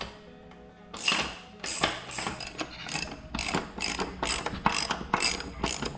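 A wrench ratchets in quick bursts of clicks while working loose the rear axle of a minibike during a sprocket swap, the clicking close up and fairly steady after a quiet first second.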